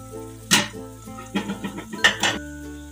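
Whole spices, bay leaf, cinnamon piece and black cardamom frying in a pot for egg biryani, with a few sharp metallic clinks and scrapes of a utensil against the pot over a faint background, no talking.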